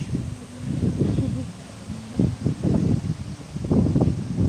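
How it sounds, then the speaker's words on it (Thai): Strong wind gusting through an outdoor flower garden, rumbling buffeting on the microphone in uneven surges under someone talking. "อุ้ยลมแรงมากเลยดูดิ"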